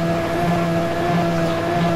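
A car engine in GTA San Andreas drones at high, steady revs, a loud, continuous buzzing tone with a constant pitch, with no talk.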